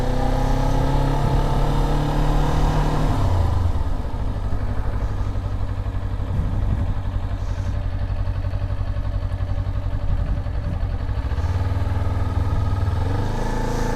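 A motorcycle rolls through a slow U-turn in a parking lot during practice drills, its mid-pitched engine idling close by, dipping and rising gently as the throttle changes through the turn.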